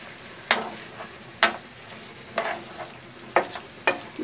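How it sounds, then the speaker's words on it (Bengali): Beef fries in a pan under a steady sizzle while a spoon scrapes and stirs it in sharp, regular strokes about once a second, close and clear with no talking. "তো মাংসটা আমি একটু নেড়ে দিব।"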